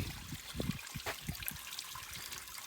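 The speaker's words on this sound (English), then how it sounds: "Okay, I started draining out the tank now." Slightly dirty water drains from a bulk gasoline storage tank in a faint, steady trickle and dribble, with small splashes over a constant outdoor hiss.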